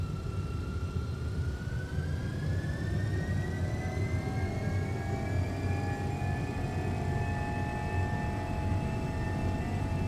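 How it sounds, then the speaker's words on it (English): Jet engines of an MD-11F spool up to takeoff thrust in a flight simulator, a steady loud roar with rising turbine whine that climbs in pitch and holds, no talking. "On runway 3-5 left. Okay, stabilize, set takeoff thrust."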